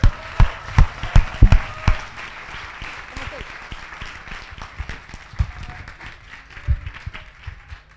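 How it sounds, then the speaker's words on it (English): Audience applause rings out at an opening ceremony for the Conference of Youth (COY 14), a burst of strong claps at the start settling into steady, sustained clapping from a crowd in a hall. "please applause to all the COYs that happened this year"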